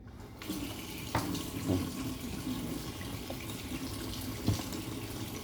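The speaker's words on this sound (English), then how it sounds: "So, we'll wash our hands." Tap water runs steadily into a sink while hands are washed, a close, continuous gush with a few soft splashes and knocks.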